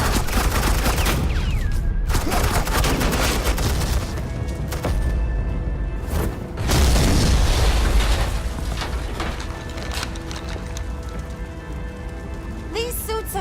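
Suppressing gunfire in a Batman video game on PS4 Pro, dense loud bursts of automatic fire and booms mixed with game sound effects and character dialogue throughout.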